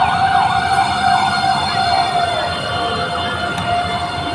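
A fire truck siren wails loudly and continuously at a building fire, its tone sweeping up and down with a steady drone of traffic beneath. No one speaks.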